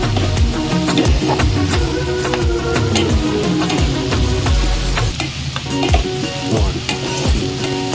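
Meat curry sizzles loudly in oil while a spoon stirs and scrapes the pan in quick repeated strokes, close and continuous.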